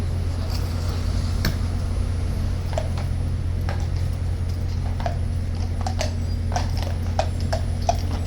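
Horse hooves clip-clopping at Horse Guards in London, a faint, irregular patter of hoof strikes over a steady low urban hum, with a bus idling nearby.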